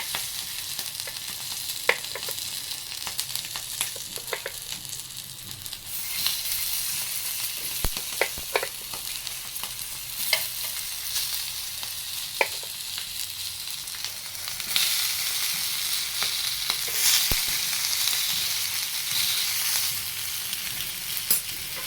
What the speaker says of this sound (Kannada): ಈಗ ಒಂದೊಂದೇ ಹೆಂಚು ಮೇಲೆ ಎಣ್ಣೆ ಹಾಕಿ ಶಾಲೋ ಫ್ರೈ ಮಾಡ್ಕೋಬೇಕು.